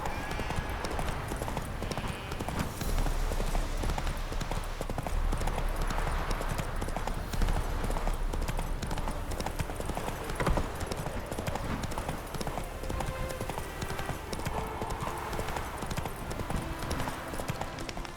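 Hooves of the horse Roach clip-clopping in The Witcher 3: Hearts of Stone video game, a steady trotting rhythm under a dense, busy game soundscape of ambience and music.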